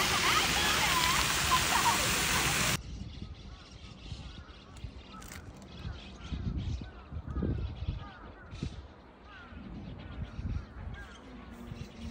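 Water flows at an outdoor bathing spot in Tsurumi Ryokuchi Park, Osaka: a loud, steady rush for about three seconds, then it cuts to a quieter outdoor scene where people talk.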